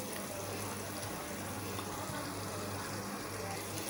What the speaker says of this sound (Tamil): இப்போ இதில் தண்ணி ஊற்றிக்கலாம்.